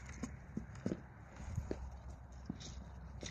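Horse hooves clip-clopping at a slow walk on a farm, a mare being led, with irregular soft thuds spaced about half a second apart over steady low background noise.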